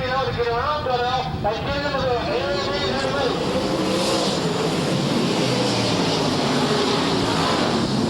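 Race cars at the 2001 Shaw Motorsports Marathon roar back up to speed on a green-flag restart, engines rising in pitch together in a loud, steady drone while a commentator talks over them.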